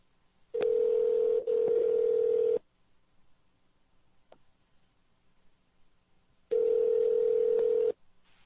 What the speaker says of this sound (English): if Dave could call me back on the number that I put my phone, I'm going to hang up here.